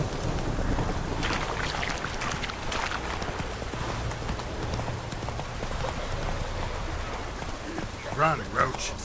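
Roach, the horse in The Witcher 3, gallops with a quick, continuous clatter of hooves over rough ambient noise, and a voice cuts in briefly near the end.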